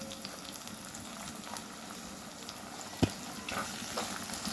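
Chopped onions and two large tomatoes sautéing in oil in a pan for an eggplant curry, a steady soft sizzle with faint stirring and one sharp clink of a utensil partway through.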